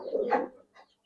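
A pair of Jabra pigeons gives a short, soft coo, one rounded throaty note followed by a fainter brief trailing sound, close by in quiet surroundings.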